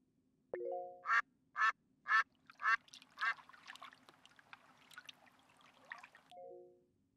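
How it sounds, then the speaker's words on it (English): Ducks quack in a quick run of five or six loud, harsh calls, followed by softer chatter and quacks over a faint trickle of water, with a steady low hum underneath. "I heard ducks quacking and water, too!"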